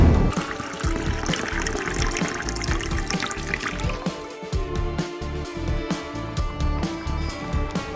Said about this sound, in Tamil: தண்ணி நல்லா கொதிச்சிருச்சு.